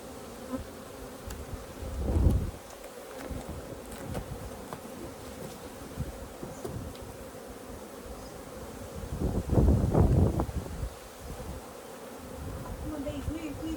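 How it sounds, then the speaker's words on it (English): Honey bees buzzing around an opened hive during a queen check, a close, steady hum that swells into louder bursts as bees fly past, with faint rustling underneath. "Come on, bees, move."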